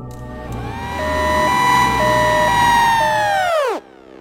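Ambulance siren blaring loud and close in a steady rising-and-falling wail, then cutting off abruptly near the end and leaving only faint background noise.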